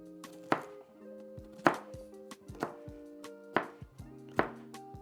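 A knife slices food on a cutting board while making lasagna soup, five crisp, evenly spaced chops heard up close in a quiet kitchen.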